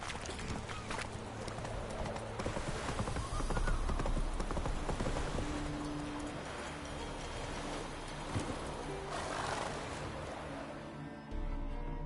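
Roach the horse gallops in The Witcher video game, with steady rhythmic clip-clop hoofbeats running continuously up close over a busy game soundscape.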